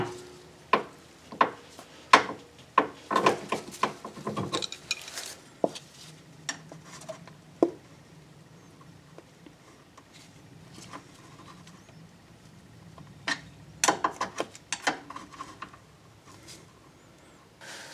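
Ratchet clicking and metal tapping while a tie rod nut is tightened on a BMW E46 330i/325i, short bursts of close, sharp clicks separated by quiet gaps.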